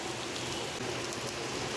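Heavy rain pours down outside a home, forming a constant, dense hiss of drops with no pauses.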